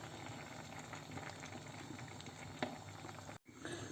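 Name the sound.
prawn curry with coconut paste boiling in a pot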